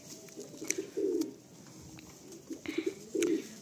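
A Madrasi pigeon coos in soft, low, rolling phrases, with several bursts spaced a second or two apart, close and fairly quiet against faint ambient noise.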